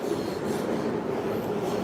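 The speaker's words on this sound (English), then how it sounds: "that's a train going by" A New York subway train rumbling past nearby, a steady continuous roar with faint wheel squeal and no voices.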